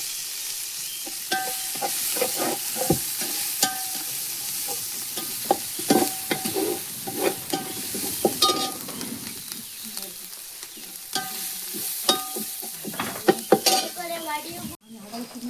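Julienned ginger and chopped curry leaves sizzle steadily in hot oil in a pan, with repeated stirring scrapes and occasional utensil clinks against the metal running throughout, close and fairly loud.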